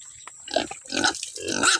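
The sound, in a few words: pigs grunting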